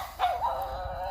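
A single short bark or yelp from a dog that barks day and night, heard at moderate distance outdoors with a faint background hiss.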